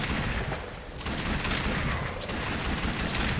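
The Aklex Prime pistol fires rapidly in a video game, a loud, dense stream of overlapping shots with no gaps, swelling and dipping slightly as the barrage continues.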